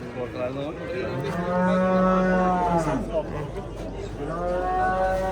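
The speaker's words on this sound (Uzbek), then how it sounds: "Bozordagi eng katta sigirlar." Large cows at the Angren cattle market give long, low, drawn-out moos, loud and close, one lengthy call followed by another after a short gap amid faint market background.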